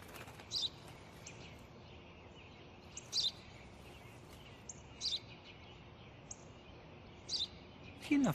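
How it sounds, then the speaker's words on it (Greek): Short house sparrow chirps ring out at irregular intervals, a few seconds apart, over a constant low background hum. "Ένα σπουργίτη."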